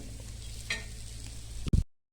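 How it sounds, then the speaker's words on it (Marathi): Garlic kharda with sesame being stir-fried in a pan, a low steady sizzle running throughout with a brief scrape near the start and a louder clatter just before it cuts off. "अशा पद्धतीने आपण हा खरडा परतून घेऊयात."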